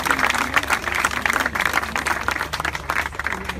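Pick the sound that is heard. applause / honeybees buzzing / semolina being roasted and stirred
applause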